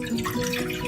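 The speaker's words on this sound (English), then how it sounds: "And then pour the water into the pan." Tap water running and splashing into a frying pan on a stove while making macaroni and cheese, a steady close trickle with light dripping textures throughout.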